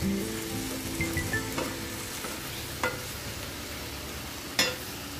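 Eggplant fries in a pan with a soft, continuous sizzle, and a utensil now and then scrapes and clacks against the pan in a few sharp knocks, all fairly quiet and close.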